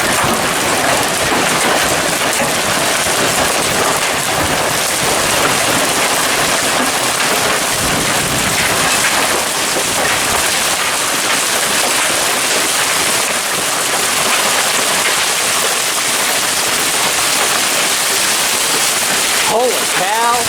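An intense early-morning hailstorm in Clarksville, Indiana, hail pouring down in a loud, dense, unbroken roar that lasts the whole stretch, with excited voices breaking in over it.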